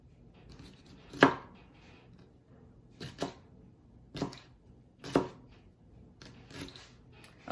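A knife cuts ingredients for a Niçoise salad into thin slices on a board, giving about six crisp, separate chops spaced roughly a second apart, near and clear with no talking.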